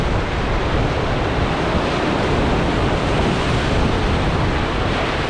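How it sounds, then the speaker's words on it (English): Storm waves pound over a flooded beach house at Crystal Beach, making a constant loud roar of surf mixed with wind buffeting the microphone, alone and unbroken. "Waves are just pummeling right over."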